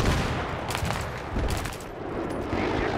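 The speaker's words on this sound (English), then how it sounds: "taking fire from the center" Gunfire rattles through a Battlefield 3 match, dense overlapping bursts of automatic weapon shots at mid distance, loud and continuous for a few seconds.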